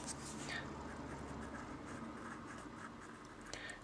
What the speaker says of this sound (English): I'm going to use the white pencil just to bring back